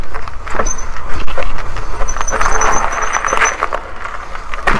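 A fat-tyre E-motorad Doodle electric bike rolls over rough, bumpy off-road ground, a steady loud rumble of wind and tyre noise with scattered knocks and a thin high whine running through the ride.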